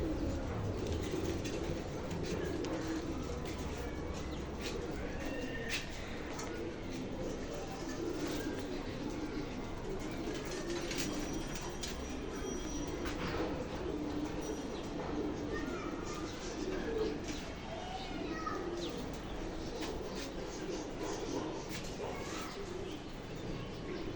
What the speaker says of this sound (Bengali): এটা থরের ঘরের কবুতর।